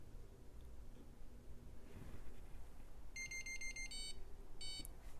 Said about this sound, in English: The buzzer is obviously working.